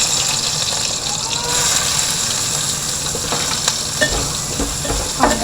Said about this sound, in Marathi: तर आता घालते भेंडीची भाजी.